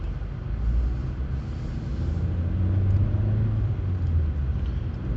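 A Vauxhall Corsa E accelerating on the road, a low engine rumble building steadily from inside the cabin, fairly quiet and without talk.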